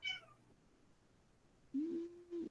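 A cat meows twice, faint and close, a short high call at the start, then a longer drawn-out meow near the end, over a quiet room hum.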